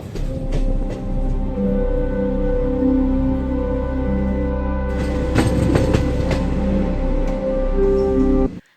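The Vishakapatnam Express, a passenger train, rolls along with a loud, steady rumble, periodic clacks and a sustained tonal hum from the carriage.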